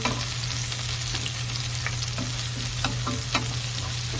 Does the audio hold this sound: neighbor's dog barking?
no